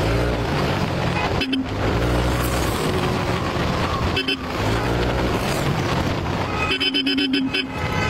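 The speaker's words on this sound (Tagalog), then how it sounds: "Lakas pa makabusina ng mga kupals, ha." Car horns toot repeatedly amid busy traffic, with engine noise throughout and a cluster of honks near the end, while a voice talks faintly under the din.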